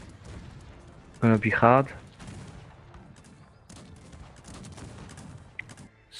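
Cannon and musket fire in a Cossacks 3 multiplayer battle, with a loud burst of shots and booms followed by scattered distant firing, under a commentator talking.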